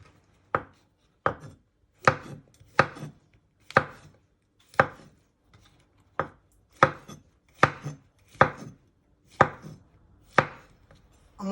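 A knife slices baby button mushrooms on a board in about sixteen crisp, evenly spaced thuds, each one close and distinct, with quiet gaps between the cuts and no talking.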